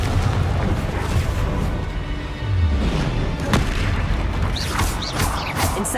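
A Confringo spell explosion in the video game Hogwarts Legacy, heard as a deep boom followed by crackling blasts and bursts amid continuous combat noise.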